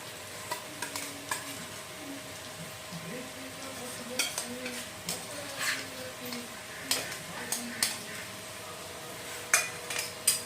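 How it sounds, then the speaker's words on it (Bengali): Ginger-garlic paste frying with fried onions in a pan, a soft steady sizzle broken by repeated scraping and clinking of a spoon stirring against the metal. "আর এখন আদা রসুন পেস্টটাকেও মিনিট 2 ধরে ভালো করে কষিয়ে নেব"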